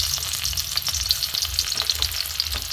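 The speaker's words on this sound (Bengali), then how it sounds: "টমেটো কুচি, কাঁচা লঙ্কা কুচি দিয়ে একটু ভাজবো।" Chopped tomato and green chili fry in mustard oil in a kadai over low heat, producing a dense, close sizzle with quick crackling spits throughout.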